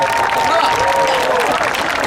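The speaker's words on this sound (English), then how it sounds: "Applause for the children." An audience at a pet show with police dogs applauding children, dense steady clapping from a crowd that fills the whole short stretch.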